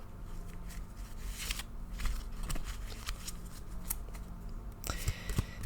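Tarot cards are shuffled repeatedly up close, crisp riffling and slapping sounds in an uneven rhythm.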